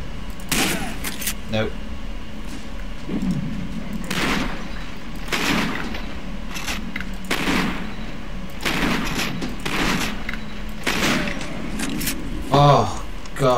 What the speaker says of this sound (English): My favourite weapon in every single Fear game, regardless. the shotgun.